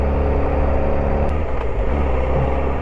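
A motorcycle ridden at a casual slow pace of about 35 on Old Upper Thomson Road, giving a steady, loud, close engine drone with low rumble and wind, continuous and without talking.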